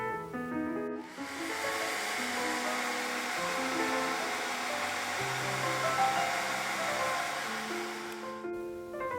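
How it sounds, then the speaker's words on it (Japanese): A hair dryer blows steadily for about eight seconds to dry watercolor paint, a loud continuous airy whoosh that starts and stops abruptly, with soft music playing underneath throughout. "一旦絵の具を完全にドライヤーで乾かします。"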